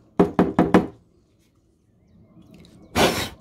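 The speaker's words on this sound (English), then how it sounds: "Tap, tap, tap." Four quick taps on a resin coaster mould for a malachite and gold coaster set, close and crisp, then a pause and a short breathy puff of air.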